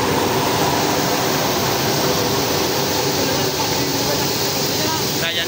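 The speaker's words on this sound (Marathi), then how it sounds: "हे खूप मोठी मोटर लावली आहे पहा. तिच्याने ते साखर पुन्हा इथे गोल गोल गोल गोल घुमते." A very large motor spins a sugar machine in a sugar factory, producing a loud, steady broadband industrial roar and whir, with a voice talking over it.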